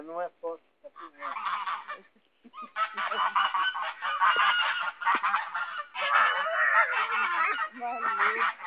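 Geese on a countryside farm in Jacareí, São Paulo, honking loudly and close by, with a few short calls at first and then a dense, nearly continuous run of overlapping honks and cackles.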